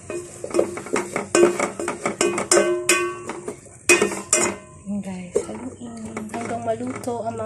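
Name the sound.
stirring sinigang in a cooking pot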